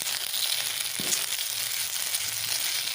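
Macaroni pasta in a tomato hot sweet sauce sizzles in the pan while being stirred, a steady close frying hiss with a brief scrape of the spoon partway through.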